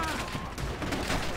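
Gunfire in Call of Duty: World at War on PC, a dense, continuous crackle of shots filling the short moment with no clear gaps, loud and close.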